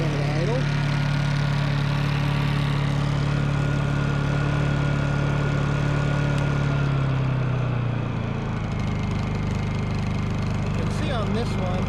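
Honda EU2000i portable generator running steadily and loudly up close, its tone dropping as it settles into eco-mode idle, with speech partly audible over the engine.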